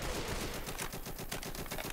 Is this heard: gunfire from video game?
yes